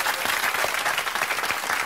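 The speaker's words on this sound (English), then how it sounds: "Big round of applause." A studio audience at a Big Brother UK live chat show claps in a dense, sustained burst of applause that fills the whole moment.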